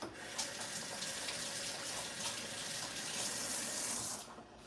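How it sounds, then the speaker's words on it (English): Tap water runs steadily into a kitchen sink while hands are rinsed, a close, continuous splashing hiss that stops abruptly at the end. "I'm going to rinse my hands off."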